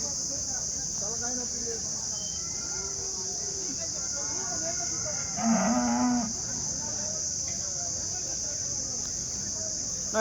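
A cow gives a low, drawn-out moo over a steady high insect whine, with faint voices talking in the background at a cattle market in Punganur.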